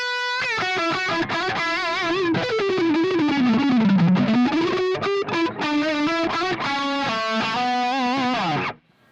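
Electric guitar through an All-Pedal Slamurai Overdrive pedal plays a gritty, sustained lead with bending and sliding notes and choppy palm-muted chugs, loud and close, ending abruptly.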